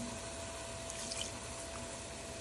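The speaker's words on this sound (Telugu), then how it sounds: "కావాలంటే కొంచెం దీన్ని ఉడకడానికి కొంచెం వాటర్ వేసుకొని" Water runs into a pot of marinated chicken for pulao, a faint, steady pouring wash with no voices, heard briefly from nearby.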